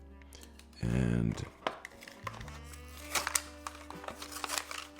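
A Philips Sonicare C3 replacement toothbrush head package is cut open and unwrapped, with a brief buzzing burst, then close crinkles, taps and scrapes of plastic packaging under a low hum.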